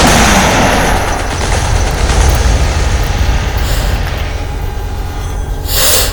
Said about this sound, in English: Might as well send a torpedo and a few missiles.